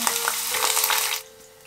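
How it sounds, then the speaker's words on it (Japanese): Summer vegetables deep-fried plain in hot oil, giving a loud, dense, close sizzle and bubbling that thins out abruptly near the end, with no voices. "夏野菜たちを素揚げしていく。"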